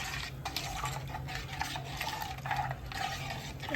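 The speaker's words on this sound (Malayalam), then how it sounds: "നന്നായിട്ടൊന്ന് ഇളക്കണ്ടോ, അത് പതഞ്ഞ് വരുന്നത് കണ്ടോ." Pani puri water, about a litre, being stirred vigorously in a pot until it froths, with steady sloshing and swirling liquid sounds and light scraping against the vessel, close and continuous with no talking.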